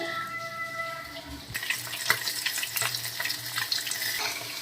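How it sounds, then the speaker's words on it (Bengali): After a quiet start, a pan erupts into loud, steady sizzling and crackling as pomfret fish fry in hot oil. "আমি একই রকমভাবে বাকি মাছগুলো ভেজে নেব"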